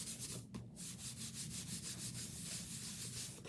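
Steady rhythmic rubbing on the back of a paper craft piece for a painted poppies Christmas project, a soft scratchy back-and-forth swishing close up and continuous throughout.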